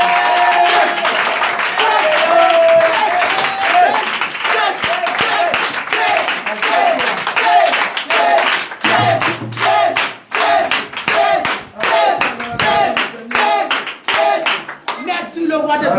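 A congregation at an intense prayer service claps and applauds in loud, dense bursts, with voices and shouting mixed through the crowd noise and the clapping growing sharper and more rhythmic toward the end.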